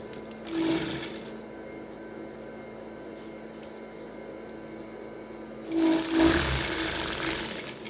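Sewing machine stitching fabric onto a bra cup, a short close mechanical whir at the start and a longer run near the end, with a quiet hum in between.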